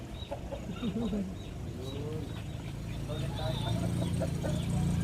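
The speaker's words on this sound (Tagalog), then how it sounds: "Ito po yung alaga kong manok." A chicken clucks and calls a few times close by, with background voices and outdoor noise building underneath.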